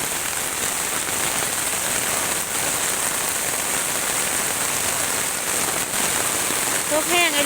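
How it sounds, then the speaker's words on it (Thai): Heavy storm rain in Laos pours steadily onto a surface, a dense unbroken hiss throughout, with a brief faint voice at the very end. "มื้อนี้ฝนตกแห้งแห้ง"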